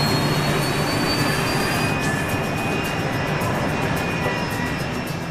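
A British-built BAE 146 commuter jet with quiet turbofan engines roars steadily and loudly throughout, a continuous broadband engine drone with a faint high whine and no talk.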